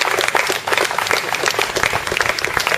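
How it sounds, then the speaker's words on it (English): A group claps for a captain during a garden tour on Rarotonga, close, loud, uneven individual claps blending into brisk applause over a few seconds. "And a round of applause for Captain"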